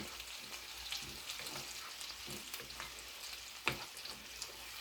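Ribs simmering in a pan on the stove, a faint steady sizzle and bubble with occasional soft clinks and scrapes as they are basted, heard close and quiet.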